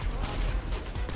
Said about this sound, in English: There it is! Airstrike!